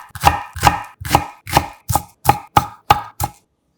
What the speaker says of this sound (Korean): 소스에 들어갈 양파 약간은 횟집 여러 번 넣고 작게 썰어주고